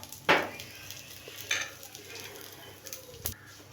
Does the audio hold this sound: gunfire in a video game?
no